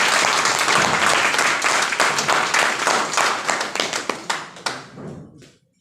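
Audience applause at a gathering, a dense wash of many hands clapping that thins toward the end into a few scattered claps before fading out.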